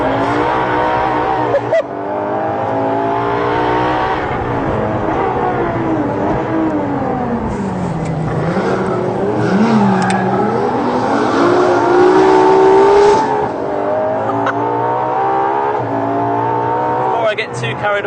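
A Ferrari LaFerrari on track, its engine loud and close as it rises and falls through repeated accelerations and gear changes, with a voice talking over the engine noise.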